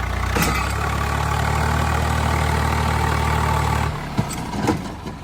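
A tractor engine idles and labours steadily for about four seconds while hauling a stuck car with an iron chain, then cuts out, leaving a few brief knocks and thuds.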